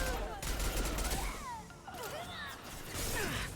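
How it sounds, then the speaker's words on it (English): Rapid bursts of gunfire from shooting people in a sci-fi video game, crackling volleys with whooshes and impacts layered over a busy mix of game effects, moderately loud throughout. "my gun keeps telling me to shoot people"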